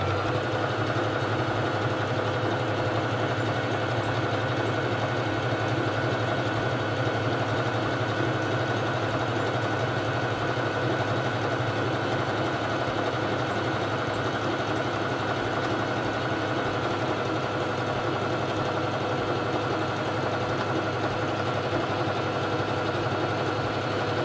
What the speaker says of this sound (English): it's time to sew the feather stitch